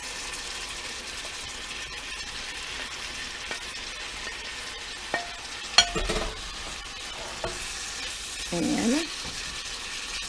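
Cooked vegetables returned to a frying pan in a mung bean dish, a soft steady sizzle with scattered clinks and scrapes of utensils and a brief louder stir near the end.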